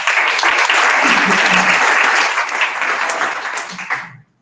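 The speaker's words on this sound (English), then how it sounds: "please give them a warm round of applause" An audience at a Toastmasters meeting claps in a loud, dense burst of applause that holds steady for several seconds, then tapers off and stops abruptly at the end.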